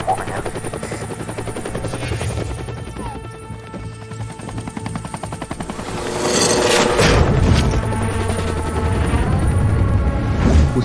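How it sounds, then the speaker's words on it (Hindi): A helicopter in a Hindi cartoon story drones with a steady whirring hum that swells into a louder, rougher roar halfway through, with what sounds like a voice and music mixed in underneath. "अब आप सोच रहे होंगे कि ये हेलीकॉप्टर कहाँ से आ गया"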